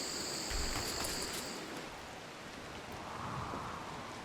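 Steady rain hisses quietly and continuously in the RimWorld video game, with faint hints of distant thunder.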